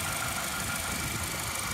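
The base-trim boxer engine of a 2023 Subaru Legacy idles with a smooth, steady hum and light mechanical whir, heard close and constant with no speech.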